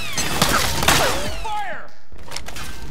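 In Metal Gear Solid 4, suppressing gunfire mixes with chaotic battlefield noise: clattering shots, thuds and whooshing mechanical swoops, followed by a brief lull and scattered later impacts.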